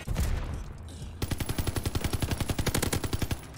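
A Vargo S assault rifle in Call of Duty Vanguard fires a long, rapid automatic burst of evenly spaced, punchy shots, following a short rumble of other game noise.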